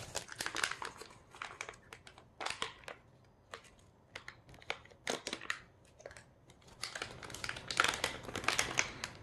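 Stiff plastic packaging of a Chinese PLA military ration, menu 6, crinkles and crumples in irregular bursts, close and fairly loud, with no voices.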